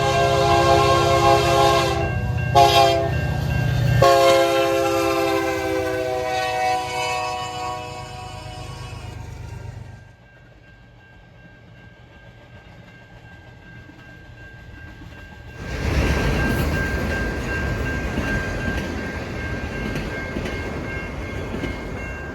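A CN manifest freight train led by two SD75 locomotives blows a loud multi-note horn up close, then the engines rumble past, quieter for a stretch before the cars roar and rattle by, loud and continuous.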